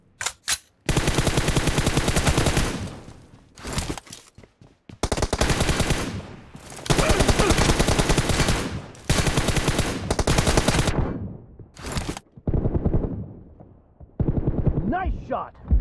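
Loud machine gun bursts in a first-person shooter video game, several long volleys separated by brief gaps, with occasional voice callouts between them.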